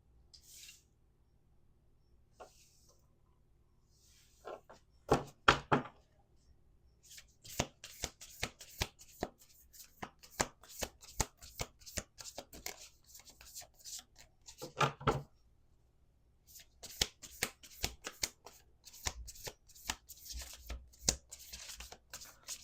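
A deck of cards is shuffled in repeated close, crisp riffling bursts of rapid flutter, separated by brief pauses, with no talking.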